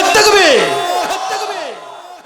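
Large crowd at an Islamic sermon roars takbir in unison, a loud, close chorus of voices rising and falling in a couple of long swelling shouts that fade out.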